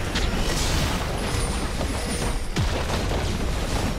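A turret is destroyed in League of Legends with a deep booming explosion, followed by crackling impact noise and scattered game effects throughout.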